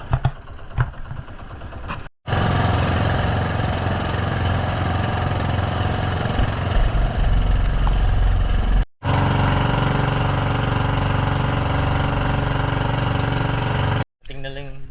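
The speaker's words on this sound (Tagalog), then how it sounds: "Sobrang bilis ng bangka niya." A motorboat engine drones loudly and steadily up close, with two brief cutouts, the rumble staying constant throughout.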